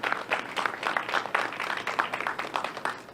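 An audience at a ten-year retrospective event applauds sponsors with a steady round of hand clapping that holds moderately loud for the whole stretch, with no talk over it.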